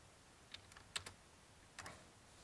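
Keystrokes on a computer keyboard typing out a project name, a few quiet clustered clicks in short bursts with pauses between, faint and close in a quiet room.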